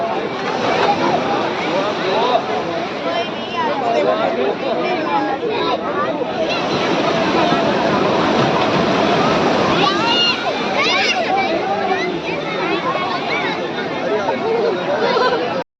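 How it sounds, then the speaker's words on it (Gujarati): Continuous surf and breaking sea waves fill the beach scene at Somnath, with lively chatter and children's voices mixed in throughout. "દરિયાના મોજા સરસ મજાના આવી રહ્યા છે"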